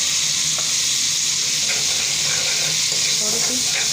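Garlic frying in hot oil in a kadai for chicken soup, a constant loud sizzle and hiss with faint stirring scrapes, heard close up with no talk.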